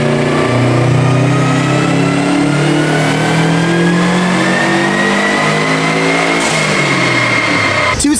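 Subaru STI engine screaming through a dyno pull, a loud, continuous rising roar with climbing harmonics that holds at full throttle before dropping off abruptly near the end.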